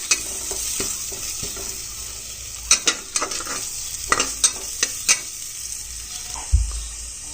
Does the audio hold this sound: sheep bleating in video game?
no